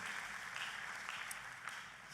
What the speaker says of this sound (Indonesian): Kita kasih tepuk tangannya boleh yang paling meriah buat Tuhan kita.